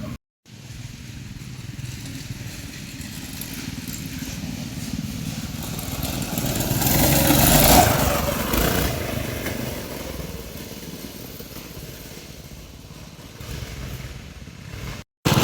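Twin engine go kart driving off-road, its engine droning steadily and swelling louder midway before easing back, heard from a fair distance with no talking.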